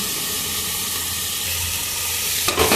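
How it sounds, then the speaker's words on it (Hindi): Chillies fry in hot oil in a pan, giving a loud, dense, continuous sizzle close up, with a short burst of stirring at the very end. "और फिर मिर्ची को डाल देंगे और इसको अच्छे से भूनेंगे पूरा लाल होने तक।"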